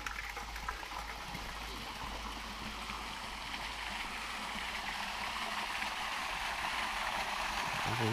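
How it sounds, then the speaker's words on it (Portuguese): Steady, broad rush of a waterfall beside the Cabeça da Anta rock formation in the Serra da Cabeça da Anta near Porto Feliz, São Paulo, a continuous wash of falling water that swells slightly louder toward the end. "Do lado dela tem uma cachoeira."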